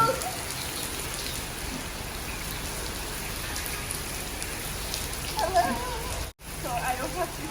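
Heavy rain pours down at Liberty Market in Lahore as a dense, steady hiss of drops that keeps up the whole time. Near the end there is a brief dropout, then the downpour returns.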